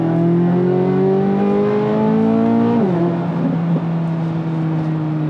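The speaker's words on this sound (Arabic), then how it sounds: "الصوت اللي صار على السياره فعليا غيرت حياتها كلها" A 2023 Chevrolet Corvette Z06 engine revs loud and close, its pitch climbing steadily for nearly three seconds before dropping back to a lower, steady drone.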